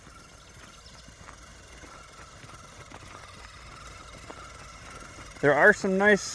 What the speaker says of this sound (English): This motor is fairly quiet in the transmission.